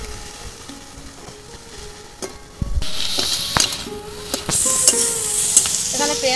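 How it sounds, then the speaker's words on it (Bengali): Onions frying in a pan with panch phoron and a green chilli, with prawns, for a Bengali pumpkin-stem chorchori: a steady sizzle that grows louder and brighter midway, broken by scraping stirs and clinks of a spatula. "পেঁয়াজটা একটু ভালো করে ভেজে নেব"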